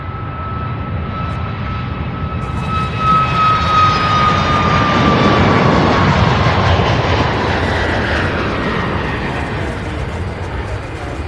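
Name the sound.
Southwest jet airliner taking off at Louisville airport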